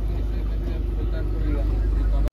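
A motorboat engine drones low and steady as the boat nears an island on Chilika Lake, close and continuous with voices mixed in, then cuts off sharply at the very end.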